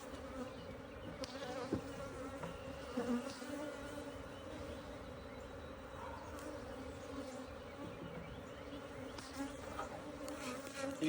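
Honeybees buzz around an apiary hive of aggressive temperament, a dense continuous drone close by, steady and without voices.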